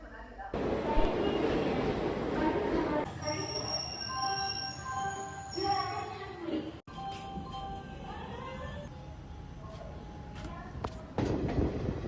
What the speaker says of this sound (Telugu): నేను ఇప్పుడు వెళ్తున్న ట్రైన్ నేమ్ వచ్చేసి బిలాస్పూర్ తిరుపతి ఎక్స్ప్రెస్